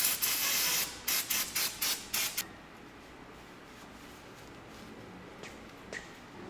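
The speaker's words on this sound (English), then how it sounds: "Now we're going to spray it off with some brake cleaner" Several short bursts of aerosol brake cleaner hiss up close on a car being prepped for a track day, then stop, leaving faint background noise and a couple of soft clicks.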